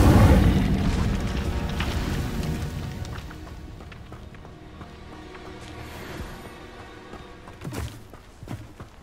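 An Incendio fire spell is cast in Hogwarts Legacy, opening with a loud, deep whooshing burst of flame that slowly fades into a softer rumble, with a few lighter thumps and crackles near the end.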